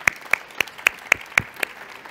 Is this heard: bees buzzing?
no